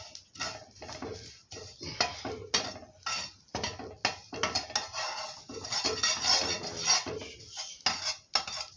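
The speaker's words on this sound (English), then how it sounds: "So you fry it until the wings break off." Flying termites being fried and stirred in a pan until their wings break off, heard as rapid, close metallic scraping and clinking of a utensil against the pan in an irregular rhythm, no voices.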